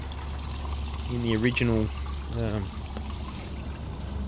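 Water pours steadily as lettuce seedlings are watered, a continuous trickling stream under a man's speech.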